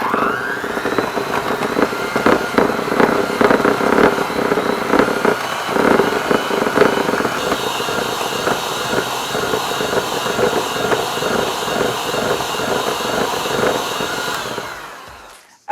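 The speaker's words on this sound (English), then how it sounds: "I like to use an electric mixer for this." An electric mixer creams butter and sugar for chocolate chip cookie dough dip, running as a steady loud motor whir close by with a slight change in pitch midway, then winding down at the end.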